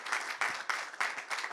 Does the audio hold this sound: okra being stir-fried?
no